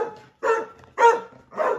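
A dog barks three times in short, spaced bursts, fairly close and clear against a quiet background.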